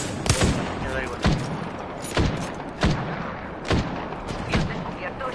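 Repeated gunshot blasts boom at fairly regular intervals, about one per second, over a noisy, rumbling background in a video game.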